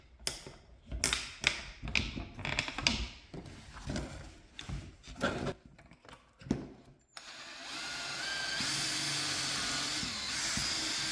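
A power drill bores pocket holes in wood for a modular drawer setup. A series of short, loud whirring bursts stops and starts irregularly, then gives way to a steadier, quieter mechanical hum.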